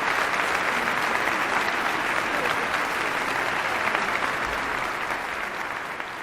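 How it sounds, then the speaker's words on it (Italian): Loud, sustained applause from a large concert audience, a dense steady clatter of clapping that fades slightly toward the end. "facciamo un applauso, li salutiamo calorosamente"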